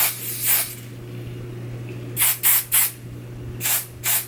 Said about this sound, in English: Now we're gonna spray our hairline with the Got To Be.